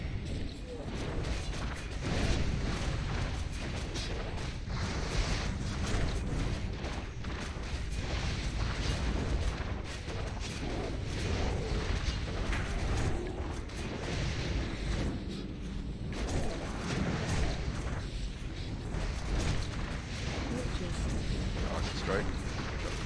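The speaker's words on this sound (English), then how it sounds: "Rocket strike. Jump clear." Rocket strike explosions in World of Warcraft's Ulduar raid, repeated booms and blasts over a dense, constant wash of combat effects, with people talking throughout.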